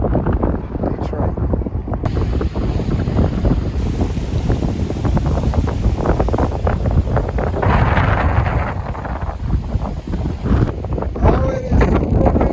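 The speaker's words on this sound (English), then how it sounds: "Oh, it is super windy today." Strong wind in a Detroit park buffets the microphone with loud, continuous low rumbling gusts that rise and fall throughout, with some faint background activity and no clear speech.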